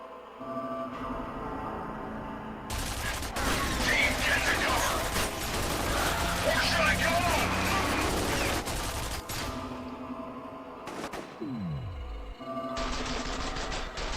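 Sustained mounted-turret gunfire in the shooter F.E.A.R., a long dense rattling burst near and loud, followed by shorter mechanical bursts and a descending whir.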